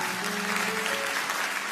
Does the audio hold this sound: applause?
yes